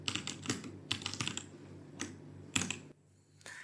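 Someone typing code on a computer keyboard, with quick bursts of close, crisp key clicks separated by short pauses, then a brief quiet gap before more keystrokes.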